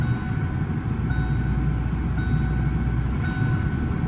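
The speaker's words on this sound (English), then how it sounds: "I can hear that compressor kicking on" A steady low mechanical hum with a constant drone and a faint tonal whine on top, continuous and fairly loud: a car AC compressor kicking on and running.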